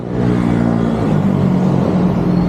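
Road traffic rumbles and whirs steadily past a cyclist riding at night, a loud continuous drone of engines with a vehicle revving up nearby.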